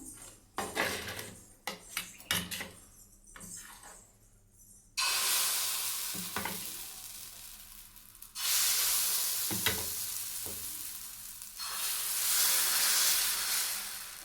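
A dosa sizzles loudly on a hot pan rubbed with onion and sesame oil. Metal utensils clink and scrape near the start, then a broad hissing sizzle swells in stages and stays strong, with no one speaking.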